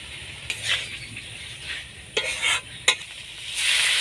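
Kasuri methi (dried fenugreek) frying in hot oil and being stirred with a spatula in a pan, a steady sizzle broken by a few scraping clinks and a louder hiss toward the end.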